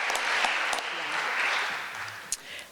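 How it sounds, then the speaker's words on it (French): An audience at a business awards gala applauds in a steady wash of clapping, fairly even in loudness and lasting throughout, with a faint voice briefly underneath. "ça mérite une main d'applaudissement quand on se lance en affaires"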